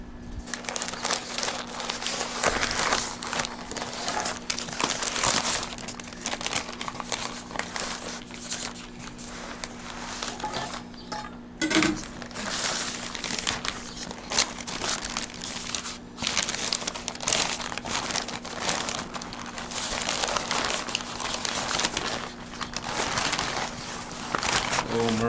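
Foil or butcher paper is crinkled and peeled off a smoked beef brisket from a Pit Boss 1150, with busy rustling and crackling up close for over twenty seconds and a low steady hum beneath.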